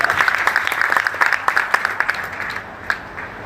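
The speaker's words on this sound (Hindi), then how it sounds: "इसके लिए जोरदार ताली।" Audience at a river day gathering claps, a run of sharp distinct hand claps over a steady murmur, loud at first and thinning out toward the end.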